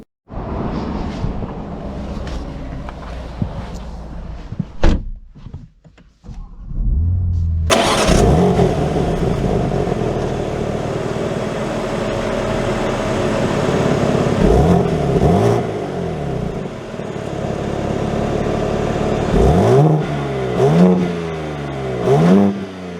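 A 2024 BMW M2 with a manual gearbox cranks and fires up, then its engine revs and pulls through rising and falling tones as it drives off, loud and close with no talk.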